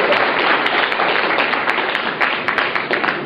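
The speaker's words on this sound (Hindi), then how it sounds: "तो उस गॉड के लिए ताली बजाएगा।" An audience at a health and memory lecture applauding, a loud, dense, sustained burst of many hands clapping at once, close and without talk.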